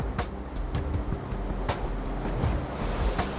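Heavy ocean surf pounds the shore during a cable landing from the Tyco Resolute cable ship, a steady roar of breaking waves with gusty wind and scattered sharp splashes.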